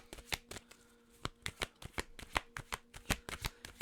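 Tarot cards shuffled by hand to draw an advice card, a quick series of close, crisp riffling slaps in an uneven rhythm, quiet and with no voices.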